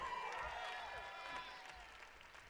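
Faint, distant audience applause at a Christian music showcase for a performer, steady clapping from the crowd fading slightly, with tonal ringing laid over it.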